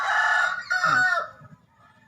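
A large long-tailed Vietnamese Dong Tao rooster lets out a single loud, near crow that holds steady and then trails off, followed by quiet low clucking.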